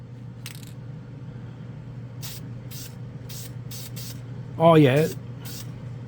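Krylon Foil blue spray paint can giving several short, hissing spray bursts at a steady close range, followed by a man's brief spoken reaction over the final spray.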